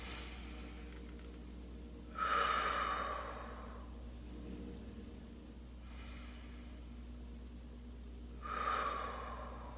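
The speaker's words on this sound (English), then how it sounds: "Deep breath in through the nose" Two deep nasal inhalations, each a soft rushing breath lasting about a second, spaced several seconds apart against a steady low background hum, with no talking.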